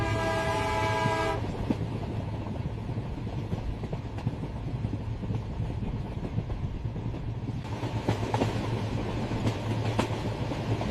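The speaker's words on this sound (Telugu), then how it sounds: "జగ్గయ్యపేట నుండి విజయవాడ వెళ్లే నందిగామ ఎక్స్ప్రెస్ ట్రైన్ ప్లాట్ఫామ్ మీద బయలుదేరడానికి సిద్ధంగా ఉంది" The Nandigama Express to Vijayawada rumbles at the Jaggayyapeta railway station platform, opening with a brief horn-like tone before a steady clatter of wheels and machinery carries on throughout.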